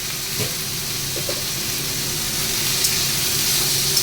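Radish pieces frying in a pan with salt, a steady soft sizzle and hiss that stays even from start to finish, with no talking.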